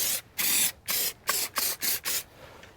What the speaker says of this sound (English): we're also going to use the Griot's Garage wheel cleaner. Open up the sprayer here.